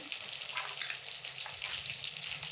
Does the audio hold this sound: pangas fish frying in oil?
yes